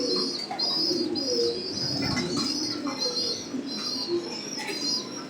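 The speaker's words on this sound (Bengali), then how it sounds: "এই যে একটা কবুতর, নর কবুতর এটা।" A male pigeon of an old fancy bloodline coos repeatedly at close range in a steady, throaty rhythm, with scattered higher bird chirps in the background.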